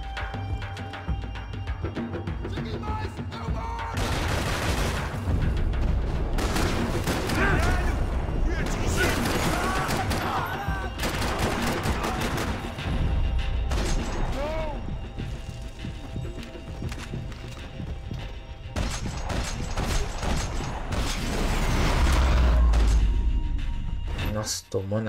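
Max Payne 3 gunfire erupts in repeated bursts of loud shots with sharp impacts, set against game sounds and frequent talk over the action.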